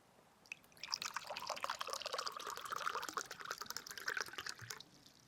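Water trickles and splashes as it is poured from a jug into a glass, a steady close, soft stream that continues for about four seconds with small drips at the end, heard in a quiet room.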